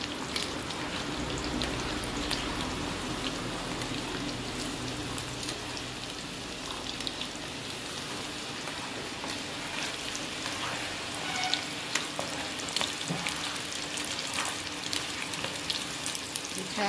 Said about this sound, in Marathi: छान लालसर सोनेरी पर्यंत तळायचं।